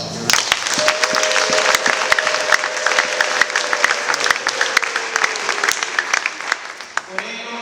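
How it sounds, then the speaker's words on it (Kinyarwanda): Church congregation clapping together in a dense, sustained round of applause that fills the room, with a voice or held tone running underneath. "Murumva mutakwiye kumuha amashyi"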